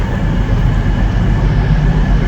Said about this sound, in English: This train is going to the depot that we see every time we come into Piccadilly